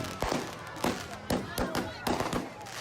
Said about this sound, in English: more fireworks going off.